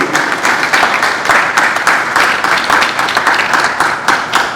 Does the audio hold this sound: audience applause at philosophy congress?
yes